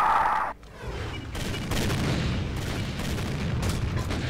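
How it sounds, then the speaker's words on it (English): In the video game Complex Memory, a grenade launcher fires with a sharp crack, then a sustained rumbling roar of blasts and debris carries on loudly. "Oh shit, this is the grenade launcher."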